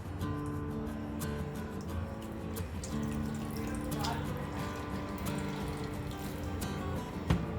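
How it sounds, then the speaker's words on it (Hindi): Cooled boiled soya chunks squeezed by hand over a bowl, giving soft running and dripping water sounds, quiet and close, with a faint steady hum beneath. "ये सोया चंक्स में से हम पानी स्क्वीज़ कर लेंगे।"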